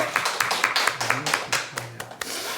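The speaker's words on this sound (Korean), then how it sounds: "우리 주님 앞에 영광의 박수 드리겠습니다." Korean church congregation clapping together at the close of a Sunday worship service, a series of sharp, roughly rhythmic claps, moderately loud, with a faint low hum underneath.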